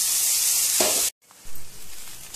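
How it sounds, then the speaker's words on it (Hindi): Chana dal goes into hot oil with cumin and chilli, a loud close sizzle that cuts out abruptly, then resumes as a softer crackling fry. "मिर्च डालते ही हम फटाक से अपना दाल डालेंगे"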